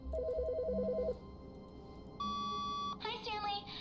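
A phone in The Stanley Parable gives a short electronic trill of rapid pulses, followed by a sustained tone and other bright game sounds, moderately loud with no talking.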